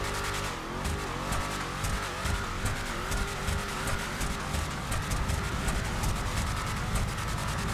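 A car engine roars continuously in GTA 5, with tires squealing and skidding over a dense, steady mix of game noise, loud and unbroken with no talk.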